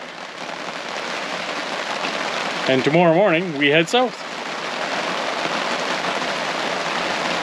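Steady rain hisses on a surface throughout, loud and close, with someone briefly speaking partway through.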